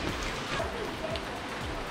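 Steady, dense rain pours down, a continuous heavy hiss of drops hitting surfaces with no pauses.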